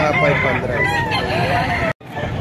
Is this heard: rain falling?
no